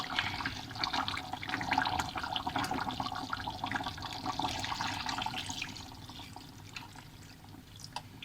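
Thick coconut milk poured into a duck curry in a pan, a soft continuous liquid pouring and bubbling sound, faint and close, without talking.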